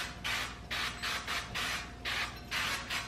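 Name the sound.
spraying avocado oil cooking spray onto cake pans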